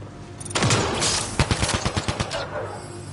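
A rapid burst of automatic gunfire in the video game Mass Effect, with about a dozen loud, close shots in quick succession after a blast of noise.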